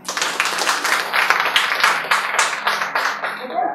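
Audience at a sense-training talk claps together in a dense, steady burst of overlapping hand claps, fairly close and loud for a few seconds, with a low hum underneath.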